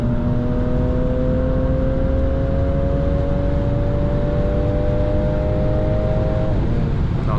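A 2015 Mercedes C450 AMG of 367 hp accelerating hard at high speed, with a loud, steady engine drone and rising whine over heavy road and wind roar, heard from inside the car with no talking.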